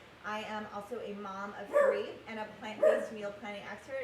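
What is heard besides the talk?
dog barking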